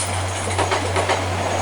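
A British Rail Class 720 electric multiple unit passes through a busy station, giving a steady, loud rolling rumble with faint rhythmic wheel clatter and a constant low electrical hum throughout.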